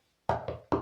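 A notebook knocked against the floor gives three hard, close knocks in quick succession, the middle one softer.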